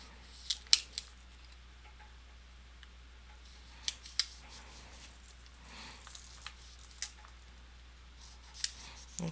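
Sticker paper is cut with scissors in a few sharp, close snips, spaced out across otherwise quiet stretches with a low background hum.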